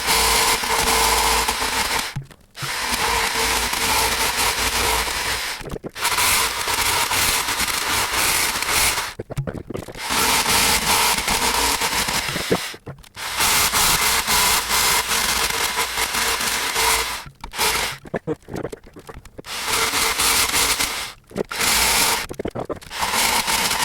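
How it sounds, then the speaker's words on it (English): Jigsaw roughing out a rectangular hole in a face plate for a control box, a loud continuous rasping buzz cut in several bursts separated by short pauses, close and alone. "I will rough out with a jigsaw"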